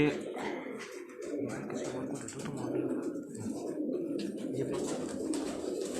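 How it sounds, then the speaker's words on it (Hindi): A Rampuri pigeon hen coos on a Karachi rooftop, soft repeated throaty coos close by over a low background murmur, with people talking nearby. "ये रामपुरी कबूतरी है जो रज़ाक भाई आपको शौक करवाएंगे।"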